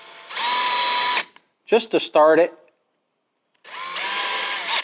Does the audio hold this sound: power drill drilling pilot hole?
yes